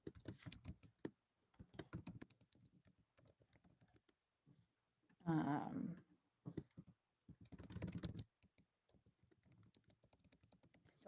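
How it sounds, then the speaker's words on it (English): Short bursts of computer keyboard typing, quick close clicks separated by quiet pauses. "Don't mind my typing."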